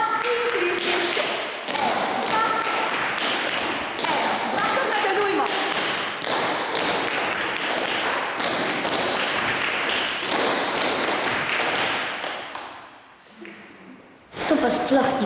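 Tap dance shoes strike a studio floor during a group step routine, producing a loud, rapid stream of sharp metallic taps that runs almost without pause before a brief lull and a final burst.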